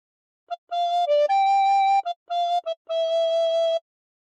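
Recorder playing a short phrase of O Christmas Tree, clear pure breathy notes alone in a quiet room, a few short tongued notes followed by longer held ones, with one sustained final note.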